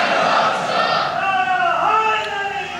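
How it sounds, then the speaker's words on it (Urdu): Mourning assembly crowd at a majlis chanting a slogan in unison in response, loud massed voices rising and falling together over a couple of seconds. "مل کے جواب دیا کرو نعرے کا"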